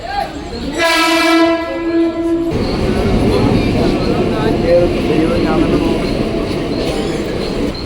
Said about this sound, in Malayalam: ഇത് ചർണി റോഡ് എന്ന് പറയുന്ന റെയിൽവേ സ്റ്റേഷനാണ്